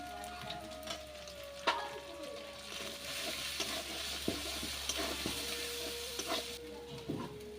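Chilli powder and turmeric sizzle in hot oil in a pan for a dhaba-style chicken tadka, stirred with a utensil that scrapes and knocks now and then over a steady close frying hiss.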